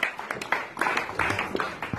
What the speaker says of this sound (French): Can somebody clap for her?